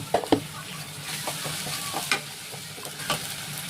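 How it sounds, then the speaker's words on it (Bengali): Onion fries with a spoonful of ginger-cumin paste in a pan, giving a steady sizzle with several sharp scraping stirs, loudest at the start and then spaced out. "পেঁয়াজটা একটু হালকা ভাজা ভাজা হবে। আর 1 চামচ ওই আদা জিরে বাটা দিয়ে দিলাম।"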